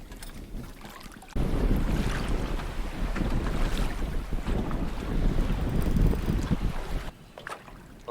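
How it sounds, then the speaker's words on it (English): Strong wind buffets the microphone on open water by a lake with whitecaps, a steady loud roar of gusts and surf that swells from about a second and a half in, then drops back near the end. "The wind's picked up finally."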